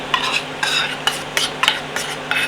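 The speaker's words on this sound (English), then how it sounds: "Next we're going to add 3 teaspoons of crushed garlic." Crushed garlic going into a Dutch oven on an induction cooktop gives a brief sizzle and scraping stir, with several soft bursts of frying and utensil scrapes repeating about every half second over a steady low hum.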